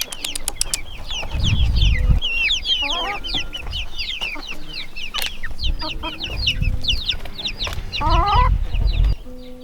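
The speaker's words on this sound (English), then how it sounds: "Got some chicks over here." Chickens, including a rooster and young chicks, cluck and chirp repeatedly at close range in a busy, overlapping flock chorus, with occasional wing flaps and brief louder squawks throughout.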